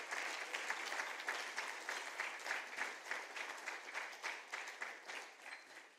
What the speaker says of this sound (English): So a big round of applause to Veronica.